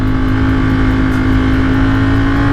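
A Ducati motorcycle engine runs loud and steady at a constant pitch, a strong low hum with no talk over it, as the rider sets off with the bike fitted with replacement bar end mirrors.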